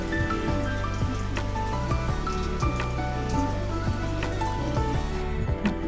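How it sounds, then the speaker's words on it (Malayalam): Rain falling steadily with scattered drips and patters on surfaces, constant and close, no voices. "മഴ തോർന്നു നിൽക്കുമായിരുന്നു മഴ വീണ്ടും പെയ്യാൻ തുടങ്ങി"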